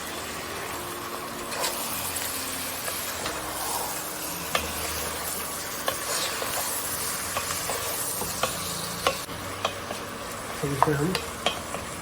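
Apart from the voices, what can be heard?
meat (mutton) being sautéed with onions in a pot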